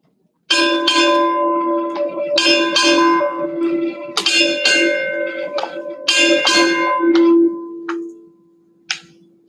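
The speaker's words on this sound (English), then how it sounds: "Strike eight bells." A ship's bell is struck in paired double clangs at a Navy change-of-command ceremony. Loud, ringing metallic tones sustain between strikes, with no talking.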